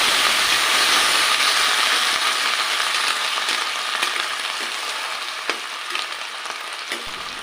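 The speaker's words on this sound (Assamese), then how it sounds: "এইখিনিত মই পানী অকণমান দি লৈছোঁ যাতে জিকাৰ বাকলিখিনি ভালদৰে সিজি যায়।" Ridge gourd peels cooking in a pan with a little added water, giving a loud, continuous hissing sizzle that fades slightly toward the end, with a few faint clicks.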